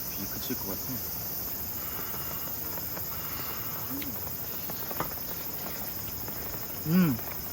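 Summer insects chirp in a steady high-pitched drone at a valley campsite after rain, continuous and even throughout, with faint scattered background clicks and a brief low murmur near the end.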